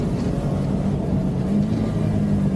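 A KTM motorcycle engine drones low and steady at close range as the rider shifts down a gear and pulls away, with the rumble swelling slightly toward the end, no talking.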